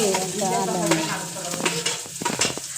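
Onion frying in a pan at home while being stirred, a steady close sizzle broken by scraping spoon strokes toward the end, with no talking.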